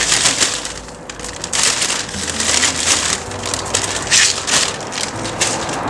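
Potting soil mixed with soil acidifier and Epsom salt is stirred and tossed by hand, producing a steady, close gritty rustle and crunch with no pauses.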